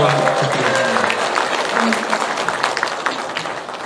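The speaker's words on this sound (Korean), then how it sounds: "대표님께 큰 박수 다시 한번 부탁드리겠습니다." Applause from a crowd at a Korean political rally, a dense burst of many people clapping with voices mixed in, loud at first and slowly easing off.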